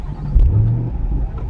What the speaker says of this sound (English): Let's get a little bit of a start up here and get a couple revs, guys, because it absolutely sounds amazing.